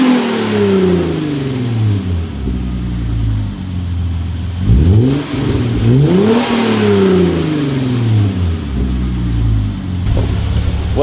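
A Hyundai Genesis Coupe fitted with a catback exhaust idles, then revs sharply two or three times with rising and falling engine pitch, before settling back to a steady idle, close and loud with no talk.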